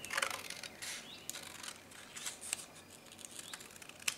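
Scissors snip paper triangles in half with a few short, crisp cuts close by, quiet against a soft background, and no one speaking.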